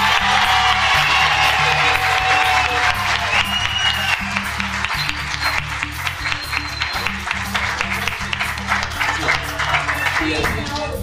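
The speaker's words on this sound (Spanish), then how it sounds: "vamos a recibir con un fuerte y caluroso aplauso a nuestro senador" A plaza crowd claps steadily for Colombian Liberal senator Andrés Cristo Bustos, dense applause with some cheers running throughout over a low musical backing.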